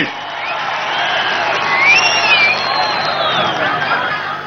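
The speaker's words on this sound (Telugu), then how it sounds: "అవునంటే గట్టిగా చప్పట్లు కొట్టి హర్షాన్ని, ఆమోదాన్ని తెలియజేయండి" A large crowd roars with sustained cheering, whoops and dense applause, loud and continuous throughout.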